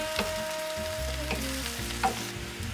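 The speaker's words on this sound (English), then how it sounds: "Now that the mushrooms have started cooking, it's time for you to cover the pan." Mushrooms fry in a pan with a close, steady sizzle, broken by a few soft clicks of stirring.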